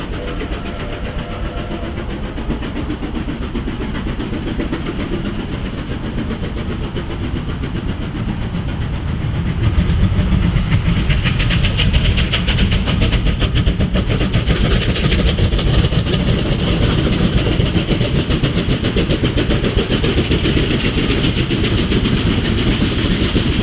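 Two steam locomotives double heading labor hard up a steep incline, a loud, continuous chugging roar with rattling wheels that swells even louder about halfway through.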